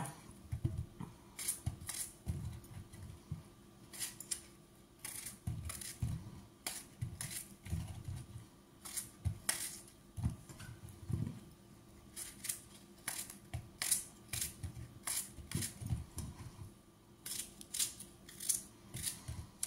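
Apples being cut into small pieces with a knife in a home kitchen: a steady run of crisp, close chopping taps with soft thuds against the board, no talking.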